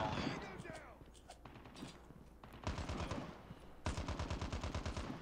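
Sniper rifle fire in the shooter game COD Mobile, with a voice talking over the first part before sharp repeated gunshot bursts with fast rhythmic reports ring out twice, loud and close.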